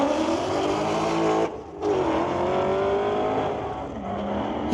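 A 2008 BMW 335i and a 2015 Ford Mustang drag race on a street-legal strip, engines roaring loudly and revving up through the gears, with a brief dip mid-run as they tear past.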